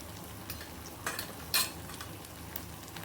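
Turmeric and red chili powder dropped into hot oil, a steady soft sizzle with a few brief stirring scrapes and one sharper clink, close and fairly quiet.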